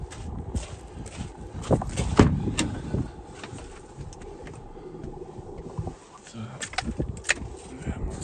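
A 2017 Renault Master van door being opened: a few short metallic clunks and clicks, one sharper knock near the middle, against quiet background rustle and faint speech.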